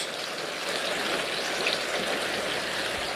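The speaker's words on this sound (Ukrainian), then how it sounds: "Йде дощ" Steady rain falls outdoors in overcast weather as an even, continuous hiss with no breaks, fairly close and uniform throughout, and no voices.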